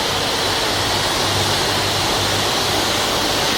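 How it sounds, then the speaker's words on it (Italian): Carbonation of Tassoni cedrata citron syrup with CO2 in an industrial bottling line, heard as a steady, loud broadband hiss and rush of gas and liquid with a low machinery rumble underneath, continuous throughout. "poi c'è la fase dell'addizione della CO2,"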